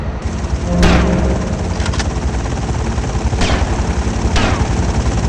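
Helicopter rotor and engine noise with bursts of gunfire during a sea battle mission in the video game GTA Vice City; a constant loud whirring drone is punctuated by several sharp shots at irregular intervals.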